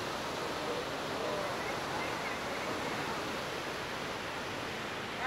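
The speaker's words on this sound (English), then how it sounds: "today we're down at La Fortuna waterfall, and wow, this is amazing, and we are able to get so close to it" La Fortuna waterfall in Costa Rica roaring up close, a dense, constant rush of falling water filling the scene evenly from start to finish.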